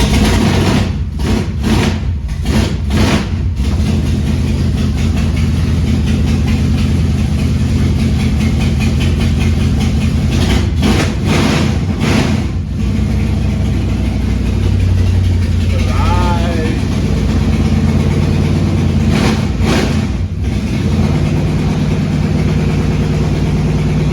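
A Plymouth Belvedere's engine idles steadily up close, a rough continuous rumble broken by several short surging bursts, with people talking over it now and then.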